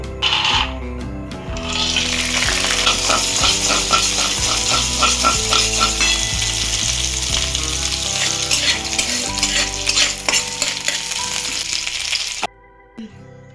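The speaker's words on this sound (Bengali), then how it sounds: "বাদামগুলোকে আমি সর্ষের তেলেই ভাজবো তাই সর্ষের তেল দিয়ে দেবো" Peanuts frying in mustard oil for vegetarian aloo chop, with a steady loud sizzle and crackle running nearly throughout, plus occasional utensil scrapes and clinks, cutting off abruptly near the end; no talking.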